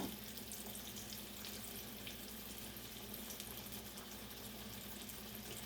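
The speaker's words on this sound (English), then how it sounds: "just roll your pork tenderloin up and fry them to a good golden brown" Rolled pork tenderloin frying in oil over medium heat, a dense, constant crackling sizzle that holds steady throughout, close and low in level with no talk.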